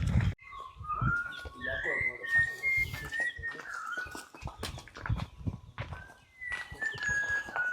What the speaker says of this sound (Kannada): ಅಲ್ಲೊಂದು ಪಕ್ಷಿ ಕೂಗ್ತಿದೆ